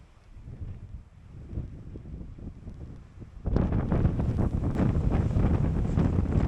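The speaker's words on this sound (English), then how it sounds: "The wind is so strong up here, it's a struggle not to just be blown over by it." Strong wind at a mountain viewpoint buffets the microphone as a rumbling gusty roar that starts moderate and becomes much louder and steadier halfway through.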